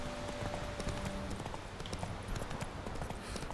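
Horse hooves clip-clopping in The Witcher 3, a steady rhythmic trot of hoofbeats with game ambience behind, fairly quiet and without talk.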